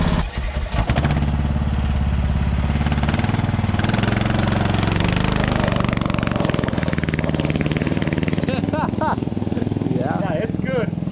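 A fast, lightened riding lawnmower with its engine running loud and close, revving and buzzing steadily throughout while people talk over it.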